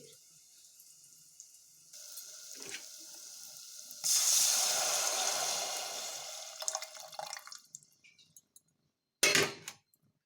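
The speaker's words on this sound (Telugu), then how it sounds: "బాగా పది నిమిషాలు మూత పెట్టుకుంటే ఇలా మరుగుతాయండి" Horse gram soup with tamarind water boils in a covered pot, a steady bubbling hiss that swells partway through, fades, then ends with a brief sharp burst.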